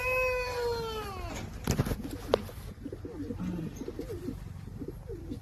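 Racing homer pigeons in a pigeon loft setup: after a drawn-out, wavering high call and a couple of sharp clattering knocks, low, soft cooing murmurs continue close by over steady background noise.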